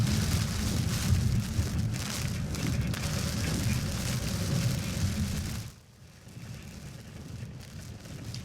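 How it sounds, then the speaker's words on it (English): Southern California gets steady rain with rumbling thunder from the remnants of Tropical Storm Mario: a dense, even wash of rain under low rolling rumbles that suddenly thins and quiets near the end. "from dry lightning and thunder to strong winds and rare isolated heavy rain"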